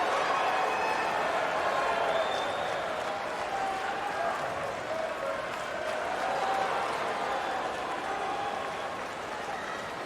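A riled-up tennis crowd at the US Open, during a 2025 third-round match between Zverev and Auger-Aliassime, makes a steady, distant roar of murmuring, whistling and scattered clapping throughout. A commentator speaks over it.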